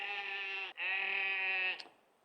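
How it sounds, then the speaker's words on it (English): A sheep wandering outdoors on a hillside gives two long, loud, close bleats in quick succession, the second trailing off. "Just a random sheep wandering around."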